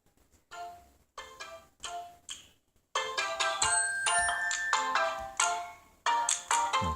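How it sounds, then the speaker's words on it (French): Ringtone of a Doogee Y6C smartphone: short chiming melodic phrases, first in quiet bursts with gaps, then louder and continuous as the tune repeats through the speaker, with no voices. "Alors la sonnerie du téléphone."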